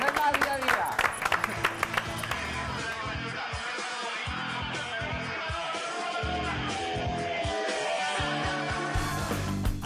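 Studio applause during a live Uruguayan sports radio broadcast, a dense clatter of clapping mixed with music and sound effects, loud and continuous with talk-like sounds woven in before a break.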